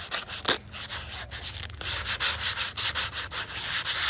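Hand sanding wood with 120-grit sandpaper, light pressure along the grain in full-length strokes: close, rhythmic raspy rubbing, one stroke after another at a slow, steady pace with brief gaps between passes, no voices.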